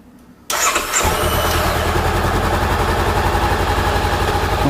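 A motorcycle engine fires up abruptly after a brief quiet moment, then settles into a loud, steady idle close by with no speech.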